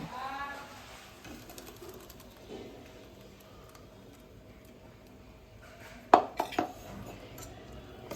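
Green masala of coriander, green garlic, mint and green chillies is stirred into cracked wheat khichdo in a pot, giving a few sharp, close spoon-on-metal clinks near the end over an otherwise quiet kitchen.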